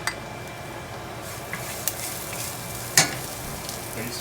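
Garlic frying in a pan as the base for a shrimp fra diavolo sauce, a low steady sizzle with a few light clinks of a utensil against the pan and one sharper scrape near the end.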